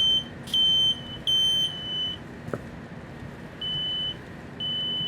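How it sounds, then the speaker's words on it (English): A smoke alarm in Pyanodon's Hard Mode sends out shrill, steady beeps in separate bursts, a few short pulses and then longer tones with gaps between them, loud over a quiet background with no voices. "And now the fire alarm's going off."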